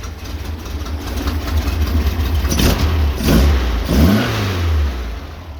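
An air-cooled VW 2110cc stroker engine idling roughly and then revving up in a few sharp bursts, loud and close, with the pitch climbing and dropping back.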